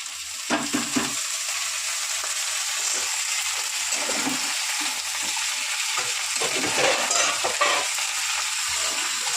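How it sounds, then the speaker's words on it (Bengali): Vegetables frying in a pan with onion and ginger, a steady loud sizzle with intermittent stirring scrapes throughout, close up and without talk. "দেখো পেঁয়াজগুলো কিন্তু আদা ভাজা হয়েছে, এবার আমি সবজিটা অ্যাড করবো এর মধ্যে।"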